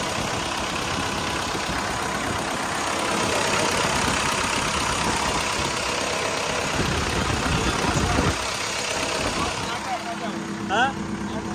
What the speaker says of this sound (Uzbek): Boshqacha motor ekan bu.